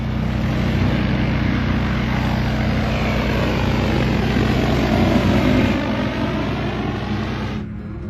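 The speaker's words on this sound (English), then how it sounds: "They're watering their crops with a drone." A large agricultural spray drone flies over farm fields in China, watering crops, its propellers giving a loud, steady buzzing drone that holds close and constant before easing off at the very end.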